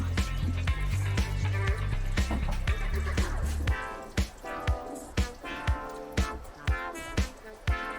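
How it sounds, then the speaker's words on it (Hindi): Fried green chillies drop into a simmering chilli gravy for Hyderabadi hari mirch ka salan, first with a thick wet sizzling churn and then a series of soft, regular plops and bubbling gloops close by. "अब इसमें डालना है हरी मिर्चें जो हमने हल्की हल्की ब्राउन करके तल के रखी थी, ये डालेंगे।"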